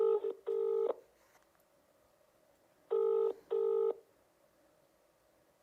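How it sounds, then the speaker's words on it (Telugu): A phone call is placed: short electronic tone bursts come in two pairs separated by a pause, clear and alone with no voices. "బాలాజీకి ఫోన్ చేసే ప్రయత్నం చేద్దాం"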